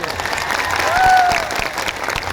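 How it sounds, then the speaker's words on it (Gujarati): A crowd at an outdoor political rally in Netrang claps in a sustained, even round of applause that swells slightly in the middle, with a faint voice rising briefly through it. "આનંદભાઈ પટેલ સાહેબ માટે જોરદાર તાળીઓ પણ લઈએ"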